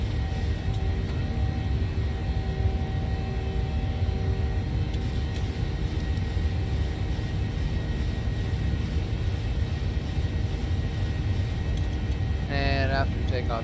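A PMDG 737-700 in Microsoft Flight Simulator climbs after takeoff, its jet engines giving a steady, loud cockpit drone with a constant hum throughout, and a brief tonal alert near the end.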